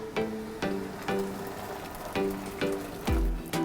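Something sprinkled over cooked tapioca pearls for boba in a container gives a series of about seven soft, crisp pattering bursts at irregular intervals, fairly faint and close, with no talk.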